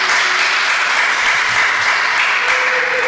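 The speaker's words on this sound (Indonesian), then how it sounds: "Tepuk tangan sekali lagi yang meriah untuk ketiganya." Sustained applause from an audience at a Ramadan talk event, honoring three speakers after their session; a dense, steady wash of many hands clapping throughout, loud and continuous with no speech.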